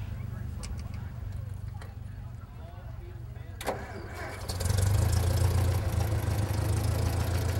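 A vintage tractor's Continental engine cranks and starts partway through, then settles into a steady, low rumbling idle close by; faint voices are heard before it starts.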